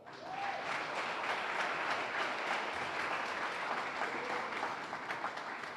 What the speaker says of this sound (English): One more round of applause for Donna